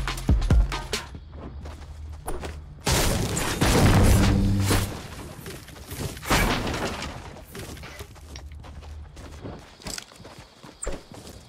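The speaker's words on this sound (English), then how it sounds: "Oh, shooting." Gunfire in Fortnite on PC, a burst of sharp, loud cracks and thuds clustered in the middle, with scattered footsteps and impacts before and after.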